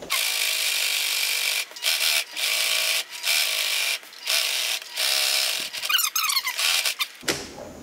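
A sewing machine runs in short stitching bursts through fabric, whirring and squeaking with brief pauses between runs and a back-and-forth locking stitch near the end.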